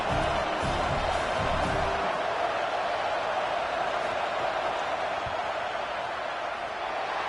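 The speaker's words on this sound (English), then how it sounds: "This crowd trying to do its part to get inside the kicker's head" Stadium crowd in a football video game roaring steadily through a field goal attempt, a dense, continuous wash of cheering and noise at even loudness throughout, with no clear voices.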